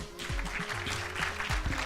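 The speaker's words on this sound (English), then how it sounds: "Let's clap for Agaba" An audience at a university guild presidential debate applauds a candidate, a dense continuous clapping that sounds fairly close, with a low amplified hum and bumps running underneath.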